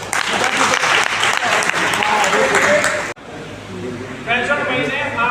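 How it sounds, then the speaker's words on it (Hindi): Applause from an audience at a sales meeting, loud dense clapping that breaks off abruptly, then lighter clapping resumes near the end. "भाई इस पे ताली"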